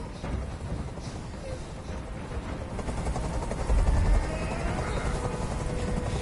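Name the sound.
helicopter in a video game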